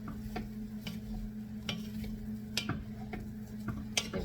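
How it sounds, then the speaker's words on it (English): A spoon stirring rice into a sausage and broccoli casserole, soft scraping taps recurring at an irregular pace over a low steady hum, close and fairly quiet. "You're going to stir it in"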